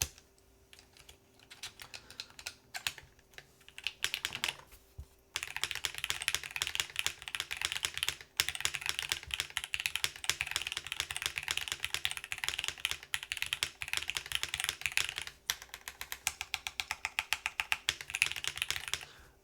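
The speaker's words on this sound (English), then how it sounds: "I mean, the keyboard does sound nice." Typing on a top-mount aluminum mechanical keyboard: rapid close clacking keystrokes in dense bursts, broken by brief pauses and a few heavier thocks, with no talking.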